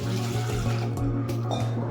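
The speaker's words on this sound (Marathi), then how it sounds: "स्वच्छ पाण्याने वल्ला वाटाणा धुवून घ्यायचा।" Fresh green peas being rinsed in clean water, a steady low splashing and running-water wash that continues evenly for a couple of seconds without any talking.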